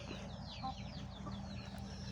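Backyard chickens cluck and chirp softly in quick, scattered calls over a low, steady background hum, fairly faint and with no talking.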